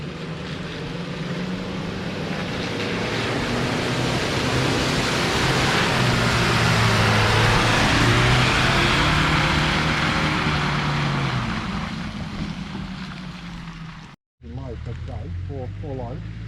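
A Nissan Navara 4x4 ute ploughs through deep mud, its engine giving a loud, sustained drone that swells and eases as it pushes on. The noise cuts out briefly near the end, then resumes.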